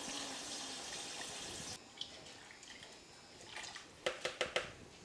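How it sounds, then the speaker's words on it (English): Water runs steadily into a cooking pot over soaked pinto beans, a continuous close pour that stops suddenly, then a few small splashes and drips follow as the flow ends. "now we're gonna add enough water to cover everything up by about an inch"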